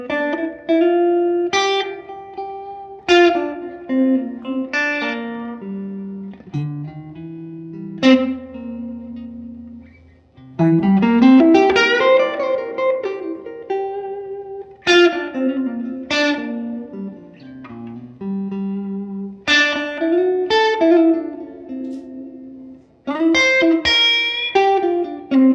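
An electric blues guitar plays pentatonic licks that outline the chords, with a distorted tone: phrases of bent, sustained notes and quick runs separated by short pauses, loud and close with no talking.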